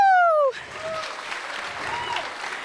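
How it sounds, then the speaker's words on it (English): A crowd claps in steady applause for the Papatoetoe High School Samoan Group, starting just after a loud tone cuts off and continuing evenly to the end. "Another round of applause, please, for Papatoetoe High School Samoan Group."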